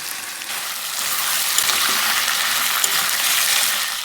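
Mutton sizzles in a wok with turmeric powder while being stirred, a dense, hissing fry that swells louder midway, with occasional soft scrapes.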